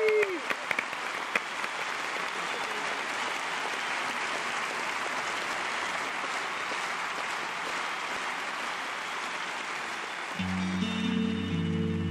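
Sustained audience applause for a Mexican music performer, a long, steady wall of clapping from a crowd, moderately distant, with a brief voice at the start and music entering near the end.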